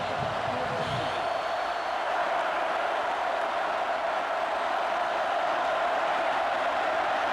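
Roaring crowd noise at Notre Dame Stadium during a 2005 football game against Michigan State, a loud, continuous wash of cheering and shouting from the stands.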